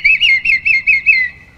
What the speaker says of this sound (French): Le courlis cendré.